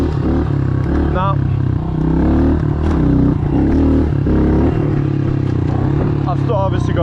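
A 2022 Honda CRF110 dirt bike revving repeatedly during wheelie practice, with rising and falling engine pitch in bursts, some clatter, and occasional voice or exclamations mixed in.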